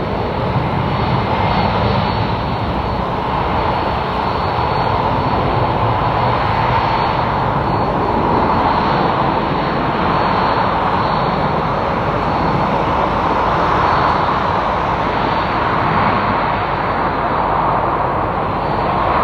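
A jet airliner takes off at Madrid Barajas Airport, its engines delivering a loud, sustained roar heard from a nearby viewing mound that swells gently and continues for the whole stretch, with no voices.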